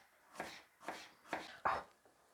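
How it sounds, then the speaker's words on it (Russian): Four steady knife strokes chop medium onions into half rings on a board, each a distinct close thud-crunch at an even unhurried pace, with quiet pauses between. "2 луковицы таких средненьких на полукольца."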